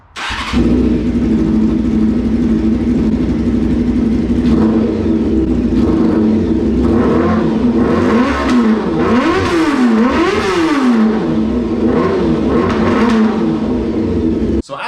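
A 1995 Honda CBR motorcycle engine idles and revs unevenly, close up and loud, with a lumpy, sputtering rhythm and several rising and falling throttle blips.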